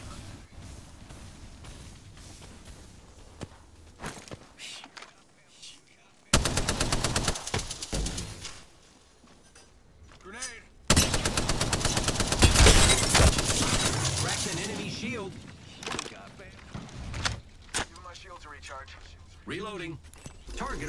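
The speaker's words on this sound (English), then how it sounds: "Opening fire on the enemy." Automatic gunfire bursts ring out in the Apex Legends battle royale game, loud rapid fusillades in two long stretches with sparser shots between, overlaid by in-game voice callouts.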